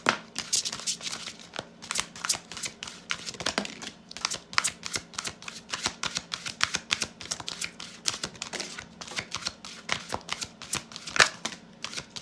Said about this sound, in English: let's go ahead and pull some confirmation cards now for